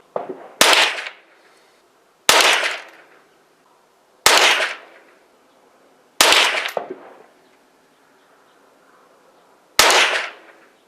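Five loud, sharp gunshots ring out one at a time at roughly two-second intervals, each fired at a steel Tuco challenge target frame and followed by a short ringing decay, with silence between.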